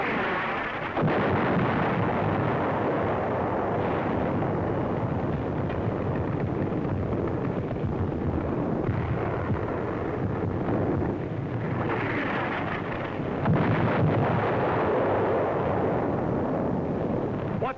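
Artillery fire on a North African desert battlefield in 1943, heard as a continuous loud rumble of distant blasts and booms with wind noise, swelling in bursts around the middle and near the end.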